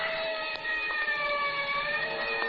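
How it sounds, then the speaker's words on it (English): A siren sounds in a radio drama scene, a steady layered wail holding level tones, muffled and moderately quiet as if heard from a distance, with no voices over it. "And somewhere in the distance I heard a siren."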